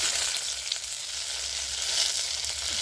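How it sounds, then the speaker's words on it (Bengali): Onions frying in oil with dried chili and five-spice seasoning, a close, steady hiss and crackle that runs unbroken with no voices. "তো পেঁয়াজটা আমার ভালো করে ভাজা হয়ে গেছে"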